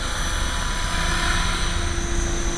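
An HK500GT electric RC helicopter runs nearby with a steady, loud rotor whine and buzz that holds constant throughout, with no talking.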